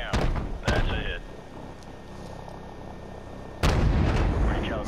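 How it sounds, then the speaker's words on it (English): A big gun fires in the Call of Duty: Modern Warfare Remastered video game: loud booming blasts, a pair early and another near the end, with rumbling and radio chatter and voices between shots. "Let's fire the big one for fun."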